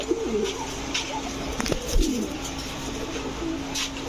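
Gorra pigeons, a pair of pet birds with male and female, cooing in repeated soft throaty phrases close to the microphone, with faint rustling between calls.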